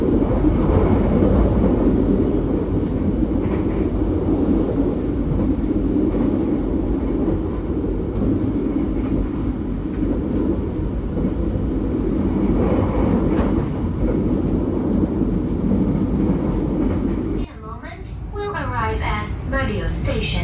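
The Gaya Baru Malam Selatan economy passenger train runs along Indonesia's southern line, its steady interior rumble and rail clatter continuous under a voice, ending with an onboard announcement.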